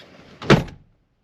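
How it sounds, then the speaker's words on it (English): A single solid thunk of a 1987 Mercedes-Benz 300SDL (W126) door shutting nearby, brief and firm, with a short fade afterward. "That's a door closing."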